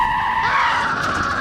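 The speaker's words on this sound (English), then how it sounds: "had to slam on the brakes harder than he usually would when diving into pits" An Alpine Renault race car brakes hard entering the pits, its tires skidding in a loud, sustained screech of about a second and a half, close and continuous with no talk over it.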